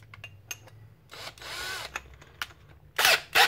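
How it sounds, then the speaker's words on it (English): A power drill running in reverse at high speed with a 9/16 bit works a brass Nerf breech, in short whirring bursts separated by clicks and pauses, close and fairly loud. "I'm in second speed, which is high speed, and I'm drilling in reverse."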